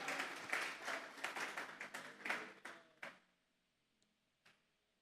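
A church congregation claps during a sermon, a dense burst of hand applause lasting about three seconds before it thins out to a couple of stray claps, with no talking.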